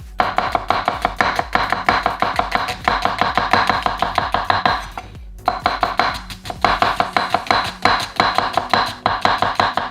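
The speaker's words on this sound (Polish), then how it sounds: "Tniemy cebulę po prostu w piórka." Rapid, steady knife chopping on a cutting board as an onion is sliced into thin half-moon strips, close and fairly loud, with a brief pause midway.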